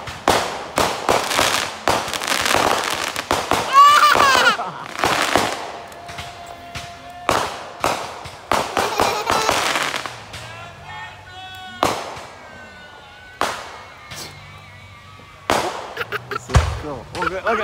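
Fourth of July fireworks burst in a rapid, irregular string of loud bangs and crackles, some near and some farther off, with a voice talking and imitating the booms between them.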